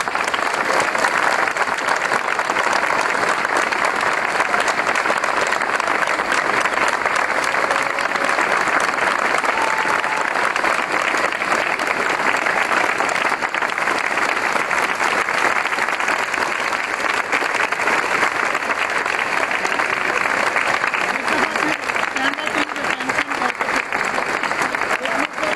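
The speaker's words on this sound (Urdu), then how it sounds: "تالیاں۔" Applause breaks out from an assembled crowd at a retirement ceremony, a long continuous roar of many hands clapping that holds steady and loud throughout, with faint voices mixed underneath.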